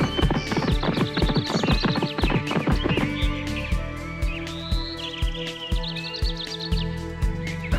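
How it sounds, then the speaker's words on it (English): Rapid cartoon horse hooves clip-clop in a quick galloping rhythm, loud and close, with a whinny mixed in and a bright musical backing throughout, no talking. "The horse started running even faster."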